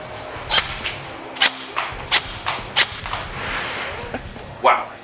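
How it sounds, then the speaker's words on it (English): Airsoft guns fire during an accuracy challenge, sharp single cracks spaced about half a second to a second apart, fairly close, with a commentator talking throughout. "they still were able to get up and get shooting before Frank even had his gun sighted in"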